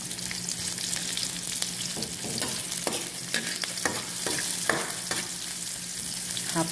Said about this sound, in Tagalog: Half fried lang natin ang sibuyas, luya, at saka bawang.